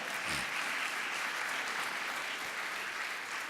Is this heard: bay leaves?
no